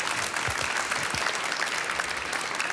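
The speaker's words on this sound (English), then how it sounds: "Big applause," Steady audience applause after a conference talk at the Formnext additive manufacturing trade show, a dense crowd of hands clapping continuously with a few nearer claps standing out.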